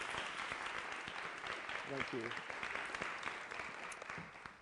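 An audience applauds to welcome a speaker, a steady wash of clapping throughout, with a brief spoken thanks partway through.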